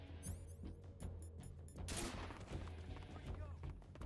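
Gunfire rattles in the Metal Gear Solid 3 video game, several sharp shots in quick succession with a louder burst midway, over a low steady game hum.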